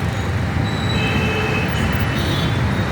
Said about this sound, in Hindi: देखिए सामने मेट्रो आ भी रही है।